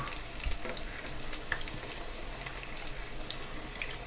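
Garlic, cumin and curry leaves fry in a pan with a steady, faint sizzle and crackle throughout, with a few soft clinks and no talking.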